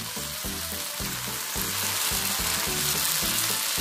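Bread pizza loaded with vegetables fries on a hot tawa over a flame, giving a loud, steady sizzle that carries on without a break while a low rhythmic pulse runs underneath.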